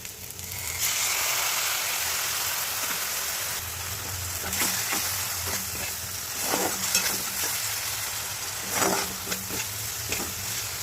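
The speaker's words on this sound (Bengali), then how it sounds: "এবার এই গুলে রাখা পেস্টটিকে আমি কড়াইতে দিয়ে দিলাম" A watery paste of chili powder and spices hits a hot kadai for a pabda fish curry with cauliflower and potato, bursting into a loud sizzle that settles into frying, broken by repeated scraping stirs of a spatula.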